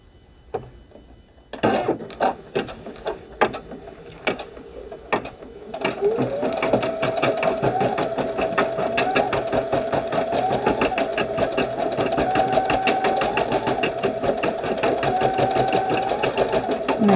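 An embroidery machine stitches a design on fabric held in a DIME sticky hoop. A few separate clacks come first, then the machine settles into a rapid, steady, close-up needle chatter with a whirring motor tone that rises and falls slightly.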